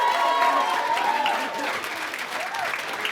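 A school audience applauds at a prize-giving for primary school teachers, dense steady clapping throughout with a voice faintly audible beneath it.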